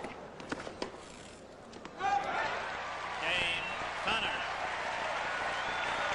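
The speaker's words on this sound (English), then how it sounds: "You get no points for that, but you get a little applause." At the 1980 US Open tennis final, a few scattered claps and ball sounds give way to a swell of polite audience applause that carries on steadily to the end, moderately faint.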